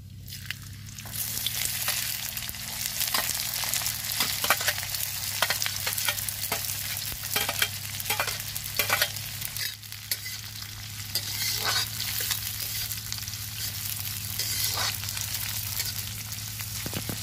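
Four sliced onions fry in yellow mustard oil with cumin, a continuous close sizzle broken by frequent scraping stirs of a spoon against the pan.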